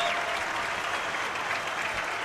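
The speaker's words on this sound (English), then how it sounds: "the Madhouse on Mercer stands up and applauds for Hot Stove as he heads over to the bench" A hockey arena crowd stands and applauds after an overtime save in a college game, a dense, steady wash of clapping filling the whole stretch at even loudness with no voices rising above it.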